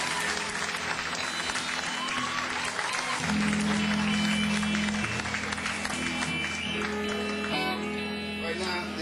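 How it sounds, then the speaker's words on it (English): Applause for a band at a 1986 blues club show at Larry Blake's in Berkeley, California: steady, dense crowd clapping fills the room throughout, with a low instrument tone sustaining underneath. "Give them a big round of applause."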